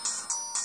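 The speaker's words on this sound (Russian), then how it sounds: "Как мы видим, очень громкий звонок." Retro Samsung X210 flip phone playing its ringtone loud and close: three bright electronic beeping bursts in a quick even rhythm, alone with no talk.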